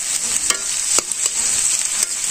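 Onions frying in a pan for a village-style chicken curry, a steady close sizzle with a few sharp stirring scrapes and clinks, no talk over it.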